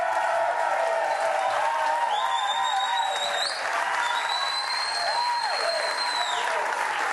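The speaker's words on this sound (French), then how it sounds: "Je vous demande d'applaudir comme il se doit." Sustained audience applause at a slam poetry event fills the space, steady and dense, with tonal music or a melodic line running through it and brief whistle-like tones rising above.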